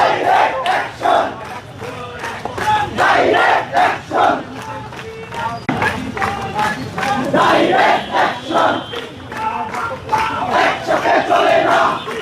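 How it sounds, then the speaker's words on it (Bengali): A large protest march crowd near Shahbag, Dhaka chants loudly in steady rhythmic bursts, many voices shouting together in a repeating cadence close by. "এই বিক্ষোভ মিছিলটা এই মুহূর্তে ঢাকা বিশ্ববিদ্যালয়ের দিকে তারা প্রবেশ করছে"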